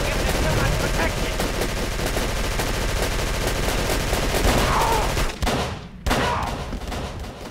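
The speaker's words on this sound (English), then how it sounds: "It's a floor-mounted automatic rifle." Sustained automatic fire from a floor-mounted rifle in Call of Cthulhu: Dark Corners of the Earth, a dense, loud, continuous rattle of rapid shots that cuts off briefly near the end before resuming.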